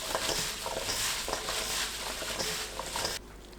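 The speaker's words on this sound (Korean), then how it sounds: "쪽파에 고운 소금 1/3 큰술 넣고 섞어주세요." Chopped scallions, cut into 3–4 cm lengths, are tossed and mixed with fine salt, giving a close, steady rustling and pattering that continues briskly, then drops to a quieter hush just before the end.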